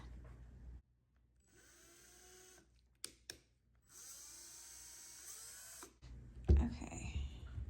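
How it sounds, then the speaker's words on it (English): A power drill whirs into an antique wooden cabinet in two sustained bursts separated by a brief pause, close up and fairly quiet, with some rustling and handling noise afterward. "I'm going to try and drill it in and see what happens"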